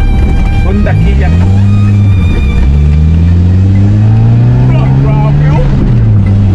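A carbureted Honda engine revs up and down close by, its pitch rising and falling in repeated swells, with a person talking over it.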